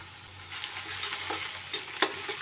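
Crushed ginger, garlic and green chillies frying in a pan, a soft continuous sizzle with light stirring scrapes and one sharper clink near the end.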